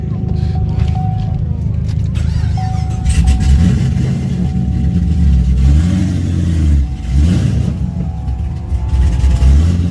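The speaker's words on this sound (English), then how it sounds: "we gonna run that truck" Truck engine revving at an outlaw dirt racetrack, a near, loud engine rising and falling in pitch through repeated throttle blips, with people talking over it.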